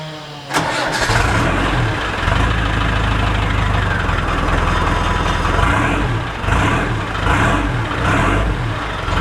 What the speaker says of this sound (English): she started up first time, no trouble, and she sounds a bit mean without the exhaust